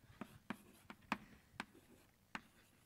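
Chalk or marker writing an equation on a board in a lecture room, a series of about seven short, faint taps and scratches at an irregular pace.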